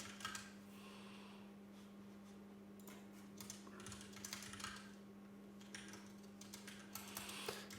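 Quiet, uneven keyboard clatter sounds as someone types headers into a note-taking app on a computer, with bursts of keystrokes over a steady low electrical hum.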